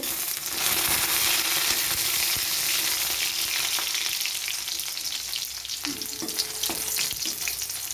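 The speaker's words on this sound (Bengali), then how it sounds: "এবারে আমি রসুনগুলোকে একটু লাল করে ভেজে নেব।" Crushed garlic and dried red chillies frying in hot oil for a jute-leaf curry, giving a loud, dense, continuous crackling sizzle with occasional stirring taps near the end.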